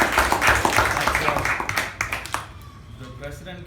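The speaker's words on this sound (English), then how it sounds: "Can we have a good round of applause?" Meeting-room audience at a Toastmasters club claps in a brisk, dense round of applause that thins out and fades within a few seconds, heard fairly close.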